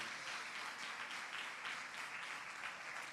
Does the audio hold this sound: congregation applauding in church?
yes